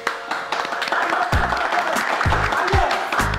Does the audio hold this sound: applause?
yes